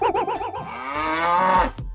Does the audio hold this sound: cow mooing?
yes